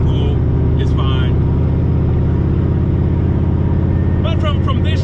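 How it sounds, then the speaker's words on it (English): A turbocharged Ford Mustang engine holds a loud, steady drone during a wide-open-throttle pull, heard from inside the car with faint voice fragments at the start and end. "rolling into a wide throttle pull is fine"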